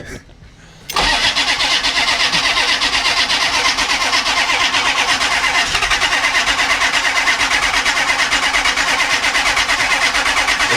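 A diesel pickup truck engine cranks briefly, then catches and settles into a loud, steady, rattling idle that runs close and unbroken for the rest of the clip.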